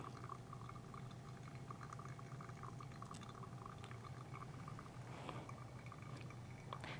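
Hot water is poured over coffee grounds in a pour-over brew, a faint, steady trickle and splash that carries on quietly throughout with no talk.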